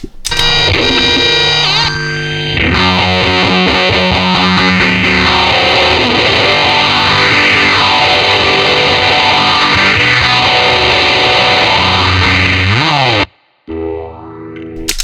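Loud, thick fuzz-distorted electric guitar chords through a Big Muff fuzz pedal, with swirling, sweeping effects, stopping abruptly before a brief restart.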